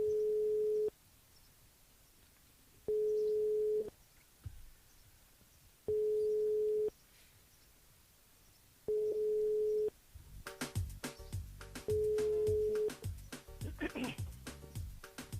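Repeated telephone ring tones sound on a radio studio line, four evenly spaced one-second tones separated by silence, then the line connects into a busy mix of music and voices.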